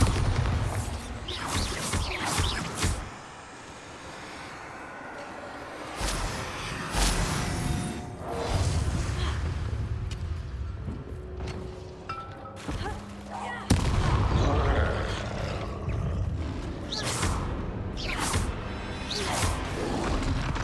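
Hogwarts Legacy spell combat with Confringo and Bombarda blasts, repeated booming impacts and whooshing bursts in dense bursts with a brief lull, a voice calling out spell names over the fighting.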